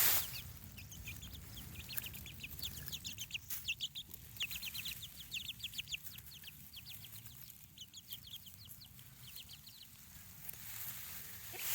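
Free-range chickens in a garden cluck and chatter in quick bursts, a hen's rapid clucking rising and falling over soft background rustle, close and moderately loud with no talking.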